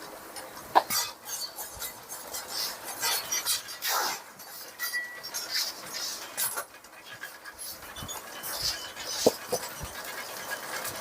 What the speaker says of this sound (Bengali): কয়েক সেকেন্ডের মধ্যে কিন্তু মুড়িটা তৈরি হয়ে যাচ্ছে